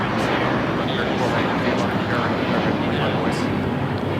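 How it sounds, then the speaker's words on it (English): An American Airlines Airbus A321 takes off, its engines giving a loud, continuous broadband roar that holds steady throughout. "This is American Airlines 2832 taking off to Dallas Fort Worth on the A321."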